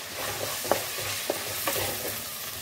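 Turmeric is stirred into an egg pasta mixture in a frying pan, a soft steady sizzle broken by a few light spoon scrapes and taps, with no voices.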